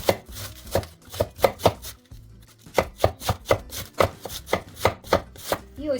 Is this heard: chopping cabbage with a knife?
yes